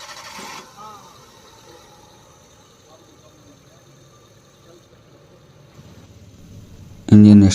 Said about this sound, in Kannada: ಹಾಫ್ ರೌಂಡಾಗಿ ಗಾಡಿ ಸ್ಟಾರ್ಟ್ ಆಗಿದೆ